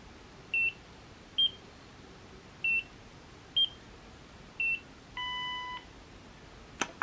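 A Nira skincare laser gives its error signal: five short, evenly spaced high beeps and then one longer tone, thin and fairly quiet over a soft background hiss.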